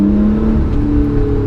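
2017 Lotus Evora 400 engine revving, a loud steady close drone holding at low revs without a rise in pitch.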